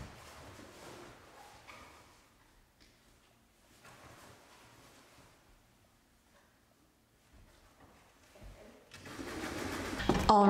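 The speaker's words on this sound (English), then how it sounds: "I'm just gonna stand up while I'm sewing and just go real slow and push it along and stop and push it along and stop" A sewing machine stitches a yurt canvas cover in short, slow bursts with pauses between them, quiet at first and louder toward the end.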